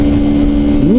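A car engine held in second gear revs high toward 9000 rpm, giving a loud, steady droning whine whose pitch starts climbing near the end of the short burst.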